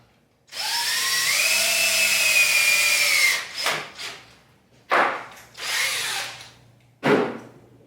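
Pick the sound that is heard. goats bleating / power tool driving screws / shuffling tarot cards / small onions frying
power tool driving screws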